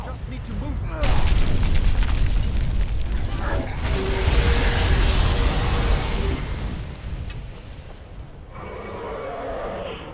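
Dragon fire roars in the video game Skyrim, a loud, sustained rushing blast with rumbling booms, mixed with game noise and fading somewhat toward the end.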